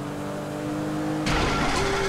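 A struggling car engine in the video game GTA V hums at a steady pitch, then bursts into a rough, loud sputtering roar that continues to the end, with no talking.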